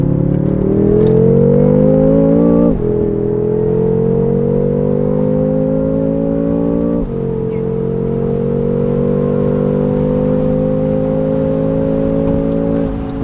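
A modified BMW F10 M5 on Pirelli tires launching in second gear, its engine a loud, steady drone that climbs in pitch and drops at each upshift, close and continuous with no talk.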